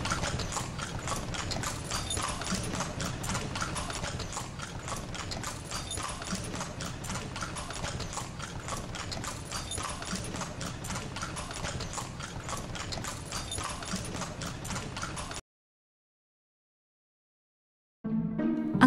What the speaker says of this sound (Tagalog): Ang kalesa ay isang sasakyang ginagamitan ng kabayo upang tumakbo